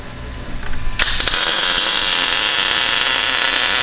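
Tack welding a rear bar onto a Nissan 240SX, a sharp crackle starting after a quiet moment and then a steady, loud, hissing buzz of the arc held close up.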